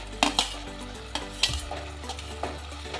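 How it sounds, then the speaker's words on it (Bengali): Fried potatoes being stirred into sizzling spice masala in a pan, with a steady frying hiss under repeated scraping and clinking strokes of a spoon against the pan at an uneven rhythm. "মশলা আমার খুব ভালো করে কষে এসেছে। দেবো ভাজা আলুটা।"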